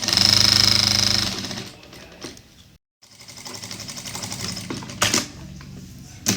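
A sewing machine runs steadily while stitching a pocket onto palazzo pants, stops briefly, then starts again with a looser, uneven whirring and a few sharp knocks, loud and close.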